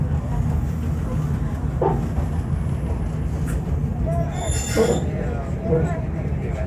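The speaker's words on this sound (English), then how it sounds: "This is a 4-hour train ride from Anchorage all the way down to Seward, Alaska." Steady rumble of a passenger train on the four-hour Anchorage to Seward line in Alaska, heard from inside the car as continuous wheel and rail noise with faint squeaks and brief voices.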